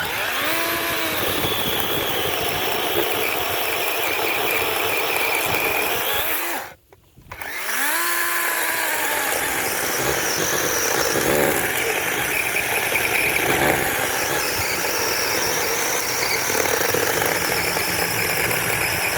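DeWalt 18 volt cordless chainsaw running close by with a loud, steady motor whine and a few rising and falling pitch swings, cutting out for a brief moment before spinning back up and running on.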